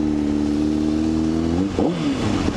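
Porsche Panamera accelerating past on a road, a loud steady engine drone with harmonics that swoop and bend near the end as the car passes close by.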